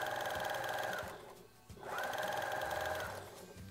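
Sewing machine stitching elastic in a ring into a swimming cap, a steady close whirring hum that stops briefly midway and then resumes at the same pace, with no talk.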